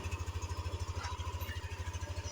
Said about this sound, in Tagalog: Ito pala guys yung bagong motor ni paring Jomar